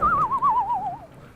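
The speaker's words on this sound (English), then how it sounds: "Frost whistles." A character in the video game Dread Delusion whistles one wavering, warbling tone that glides slightly downward for about a second, clear and close, then fades into a quiet echo.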